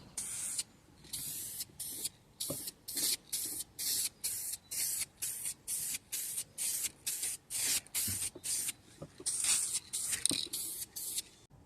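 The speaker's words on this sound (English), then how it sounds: "we're going to get a couple coats of silver on it" Silver base coat sprayed on a small lowrider wagon model in a paint booth: about twenty short, even hissing bursts in a steady on-off rhythm, close and fairly quiet.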